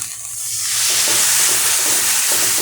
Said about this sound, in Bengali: এখন একটু দিয়ে দিব পানি